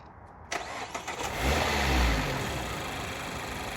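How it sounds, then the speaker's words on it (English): A 2019 Mazda MX-5 RF 30th Anniversary Special Edition engine cranks and catches after a brief pause, swelling into a short rev before settling into a steady, close idle. "Denis, if you want to start the car."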